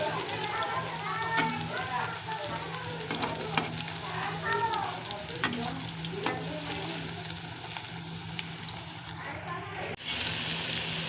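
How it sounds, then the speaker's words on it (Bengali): Beetroot pakoras frying in hot oil, a dense continuous crackling sizzle heard close up, with intermittent utensil taps and a faint hum underneath. "দেখতেই পাচ্ছেন পকোড়া কিন্তু আমার ভাজা রেডি।"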